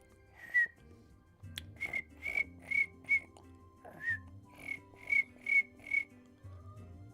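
A person whistles to imitate a cricket chirp, giving short, sharp, high trills in irregular bursts, about ten in all, fairly faint and close, with a low hum underneath.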